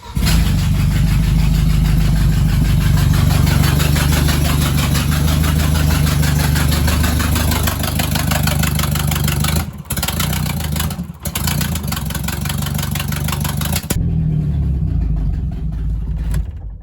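A Volvo 940 engine runs steadily after a head gasket change, with only two exhaust bolts fitted, a loud continuous idle with a rough rumble and brief dips near the end.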